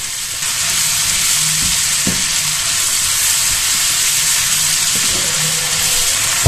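Spring onion and leek sautéing in a hot pan, a steady loud sizzle and hiss of frying vegetables with a few light clicks of stirring, no voices.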